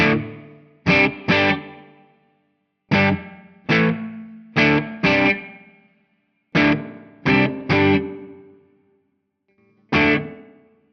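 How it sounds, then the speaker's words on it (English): Distorted electric guitar through one of the older Tonex spring reverb algorithms, striking separate chords and double hits with silent gaps between them, each chord decaying with a short springy reverb tail. "Now, if we compare that to some of the old spring reverb algorithms,"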